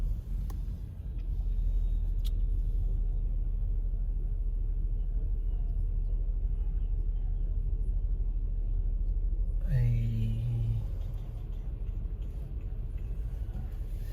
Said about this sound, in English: This first bit of traffic we've hit, really.